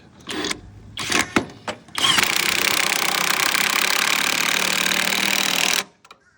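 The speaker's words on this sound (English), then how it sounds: "Using a hammer drill." A hammer drill rattles into a wall in a few short bursts, then runs loud and steady for about four seconds before stopping abruptly.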